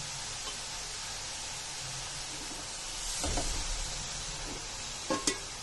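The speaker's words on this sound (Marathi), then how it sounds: "असं मी व्यवस्थित असं तुपावर भाजून घेते गाजर आणि गॅस मी फास्टच ठेवलाय" Grated carrots frying in ghee over a high flame for carrot halwa give a soft, steady sizzle, with a swell of stirring midway and a couple of sharp utensil scrapes near the end.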